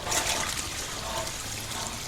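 Water splashes steadily as it is poured in a kitchen, a brief continuous gush at moderate level.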